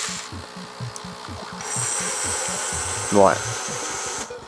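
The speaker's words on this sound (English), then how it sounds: "So now that's spinning up like a treat. You can hear there we're about to take off." The gyro of an NES R.O.B. robot spins up with a rapid, rhythmic mechanical whirr over a thin high whine, and a brief rising sweep near the end; a voice speaks one short word.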